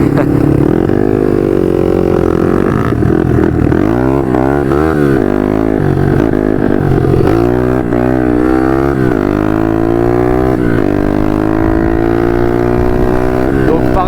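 A 150 RXF dirt bike rides off, its engine revving loud and close with rising and falling pitch sweeps as it accelerates, a steady motor roar filling the whole stretch.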